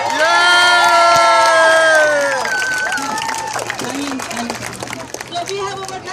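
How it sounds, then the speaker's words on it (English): Crowd at a protest rally against a sex education curriculum, with cheering and shouts rising loudly over a sustained tonal sound at first, then settling into a busy hubbub of voices, whistles and scattered clapping. "A big round of applause to our Chinese parents"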